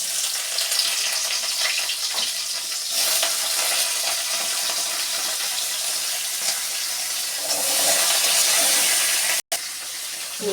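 Chopped onion frying in hot oil in a home kitchen, a loud, steady broadband sizzle that swells briefly near the end, heard alone without talk.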